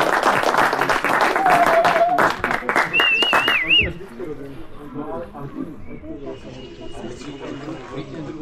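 An audience claps at a 3D archery match in Slovakia. Dense, rapid applause fills the first four seconds, with voices talking over it and a few whistle-like tones. It then drops away to quieter background chatter.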